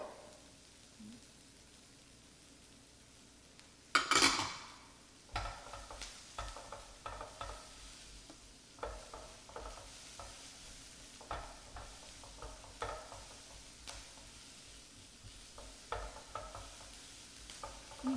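Softened onions and diced garlic sizzle quietly in a lightly oiled pan for black bean tacos, with a sharp clatter as the garlic goes in and then soft stirring scrapes and a low frying hiss.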